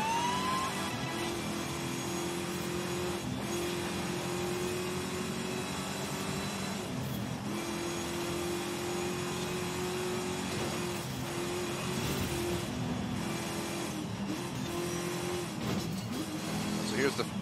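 A 2014 Ferrari California T drones steadily through a video game race, its engine tone holding with shifts as it accelerates, running continuously under a game soundtrack and commentary.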